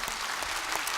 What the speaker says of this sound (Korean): 우리 남자생 박수 한번 해드릴까요